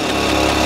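A chainsaw from a Minecraft mod runs in a loud, steady engine drone, close and unbroken throughout.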